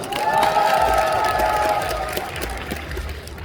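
A crowd at an esports team fan meeting applauds and cheers loudly, a dense roar of clapping and shouts that swells early and then eases slightly.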